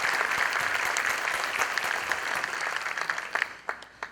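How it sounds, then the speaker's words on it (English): Applause for the Southern Star natural gas company team at a morning community event, a dense burst of clapping from a crowd that thins into a few scattered, separate claps at the end. "one more round of applause for the Southern Star team"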